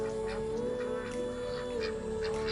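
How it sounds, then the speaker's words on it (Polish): Indian runner ducks, a female and a drake kept on a small farm, give repeated nasal quacking calls close by over a steady background of other poultry noise, with no talking. "To jest kaczka a kaczor jest o tutaj."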